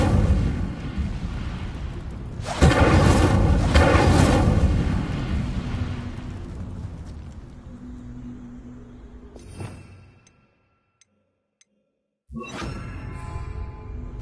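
A loud fiery burst and roar from an Incendio fire spell cast in Hogwarts Legacy on PS5, flaring sharply and then fading, followed by a short silence and a fresh burst of game sound.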